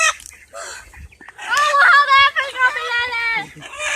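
Chickens in a pen clucking and squawking close by during wing trimming, bursts of harmonic fowl calls overlapping, with some background noise and a voice or two mixed in.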